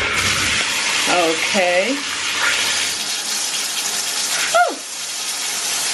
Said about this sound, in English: Let's see, I turned the water on.